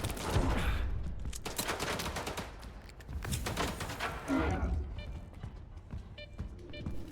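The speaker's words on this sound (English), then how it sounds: "Shoot some bullets, run around, unjam, reload, shoot some bullets, unjam" Gunfire from a worn, jamming pistol in the video game STALKER 2. Repeated bursts of shots rattle over busy in-game noise and footsteps, with a voice speaking underneath at times.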